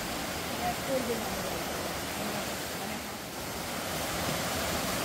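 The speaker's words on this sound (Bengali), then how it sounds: "খুব সুন্দরভাবে ঝর্ণার জল" Clear stream water from a waterfall runs over rocks near a living root bridge in Meghalaya, a steady broadband rushing wash throughout, moderately loud and even, with faint talk beneath.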